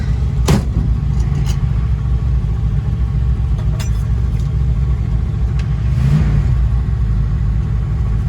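A 1965 Ford Mustang engine warming up idles with a steady, low rumble, close and loud, with a few faint clicks and one brief swell in revs.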